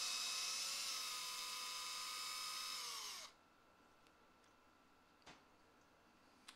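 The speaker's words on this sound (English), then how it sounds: "So got our drill. We're going to set it to loosen." A power drill set to reverse whirs loudly and steadily while loosening the neck bolts on a guitar, then winds down and stops, leaving near silence broken by a couple of faint clicks.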